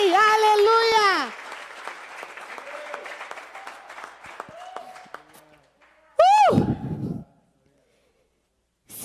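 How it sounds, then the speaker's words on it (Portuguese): A church congregation applauds God in a loud burst of clapping and cheering, which fades into scattered claps and murmuring, then a brief loud shout near the end before silence. "Todos lá devem ouvir os teus aplausos ao Deus de todo poder"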